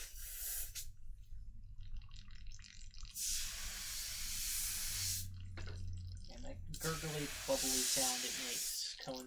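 Airbrush spraying solid acrylic paint in bursts of airy hiss, three loud sprays separated by quieter gaps, with a person talking over the last burst.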